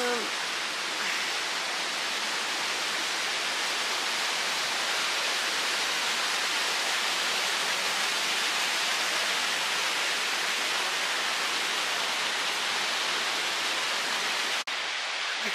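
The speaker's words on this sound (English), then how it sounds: "Oh my gosh guys, look at that waterfall." Waterfall at the Fairy Pools on the Isle of Skye, a broad, steady rushing roar of falling water that stays constant and close throughout, with no voices.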